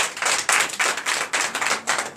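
Congregation at a Sunday church service in Comè, Benin, clapping together in a steady rhythmic pattern of bright, closely spaced claps, loud and near with no voices over it.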